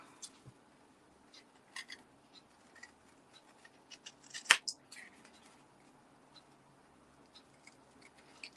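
Scissors snipping through material nearby, a scattering of quiet, sharp clicks and short cuts with one louder snap midway, set against a faint, hushed room background.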